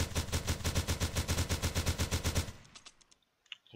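Rapid automatic gunfire from a weapon in a Unity survival video game, a steady rattling burst of about twenty evenly spaced shots that cuts off abruptly, leaving a few faint clicks.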